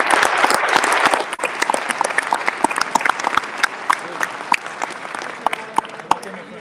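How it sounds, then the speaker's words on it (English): An audience claps at the close of a talk on the future of automotive, with a dense burst of hand claps that thins to scattered individual claps toward the end. "great round of applause"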